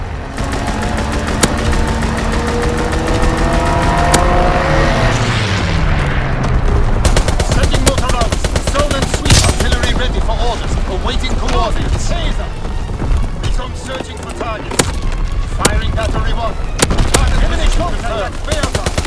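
Fighter plane strafing run in Call of Duty: WWII, with a diving aircraft engine sweeping down, then dense, loud bursts of machine-gun fire and booming impacts and explosions over a sustained rumble.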